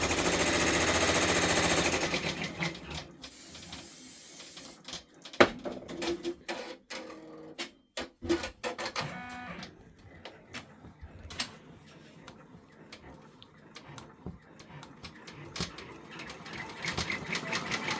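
Brother embroidery machine stitching a freestanding gingerbread village bridge, with rapid mechanical needle clatter in bursts and pauses, fairly close and moderate in level, alone without talk.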